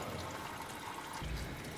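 Transmission fluid draining from a 2008 Hyundai Elantra 2.0L, a steady liquid pour and trickle into a pan, close and continuous, with the stream growing heavier and lower toward the end.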